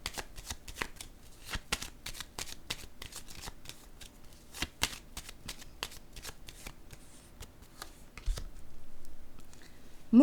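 Tarot-style cards are shuffled, flicked and laid down on a table during a card reading, producing a quick run of crisp snaps and slaps and then a softer rustle near the end, close and quiet.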